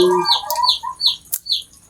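A hen clucks close by in a quick series of short, rising calls, with a sharp click partway through and no talking.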